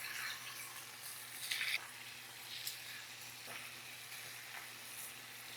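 Butter curry chicken pieces sizzle gently in a hot pan, with a soft, steady crackle and a few brief louder spits. The sound is faint and close, and no voices are heard.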